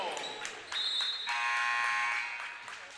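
A basketball game buzzer sounds in a gym during a men's college game, a loud, sustained electronic tone rising over crowd noise and talk, following a few quick thumps.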